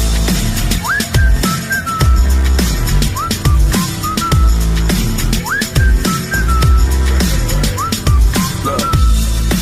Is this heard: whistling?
yes